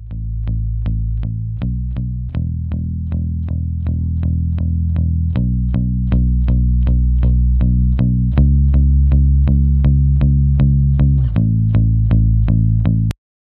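Heavily compressed, distorted music plays through a Waves RS124 compressor plugin driven to 15 to 20 dB of compression, with rhythmic plucked notes at a steady pace, loud and dense throughout before stopping abruptly.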